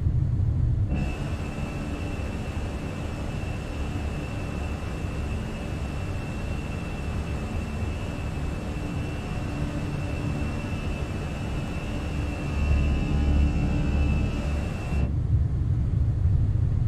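Airliner engines roaring at climb thrust in Microsoft Flight Simulator 2020 after departure from Barcelona El Prat, a loud continuous broadband drone with a steady high whine, unbroken for around fourteen seconds.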